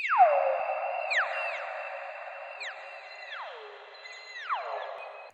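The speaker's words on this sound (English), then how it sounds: "Reverse reverb." Swelling synthetic tones rise and then sweep sharply downward, repeating several times in a smooth, ghostly backward-reverb texture with no talking.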